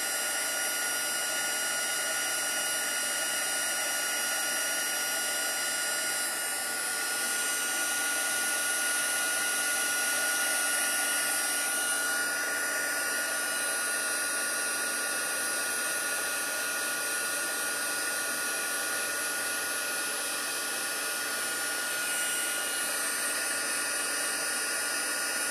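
An embossing heat tool blows steadily over embossing powder for a metal-effect finish, a continuous loud whooshing hiss with a slight whine that holds throughout with no talking.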